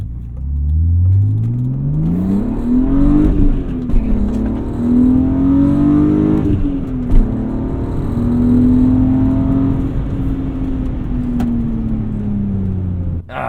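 A BMW E36 M3 fitted with a Turner Motorsport intake revs up close and loud, its engine note climbing, easing and swelling again in long sustained pulls with no one talking.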